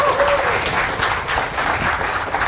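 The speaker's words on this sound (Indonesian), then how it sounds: "Tepuk tangan dulu buat kita semua sekalian ya." Audience clapping at a product education session, a short burst of many hands applauding steadily at close range, with a voice briefly audible at the start.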